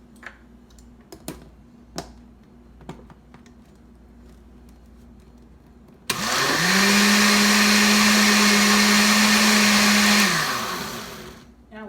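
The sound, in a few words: blender mixing a drink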